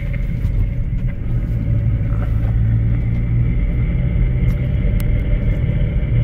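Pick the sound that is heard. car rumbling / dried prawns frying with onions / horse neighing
car rumbling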